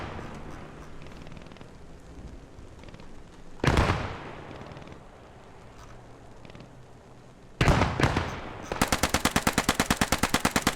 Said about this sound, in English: Okay, now shots are fired over here.